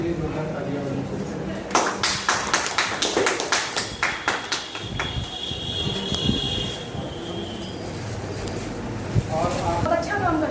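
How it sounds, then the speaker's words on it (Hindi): Audience applause honouring doctors at a Doctors' Day event with a Covid awareness gathering, heard as a burst of scattered claps over a few seconds, with people talking around it. "इसके लिए जोरदार तालियां होनी चाहिए"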